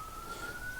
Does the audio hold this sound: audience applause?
no